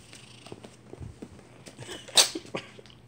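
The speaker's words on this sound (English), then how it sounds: "Oh, cat's sneezing everywhere again." A cat sneezing at close range, a sharp hissy burst followed by a second smaller one, amid faint rustling and small movement noises, with no voices.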